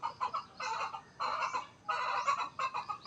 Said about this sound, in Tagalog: Ito, may manok tayo.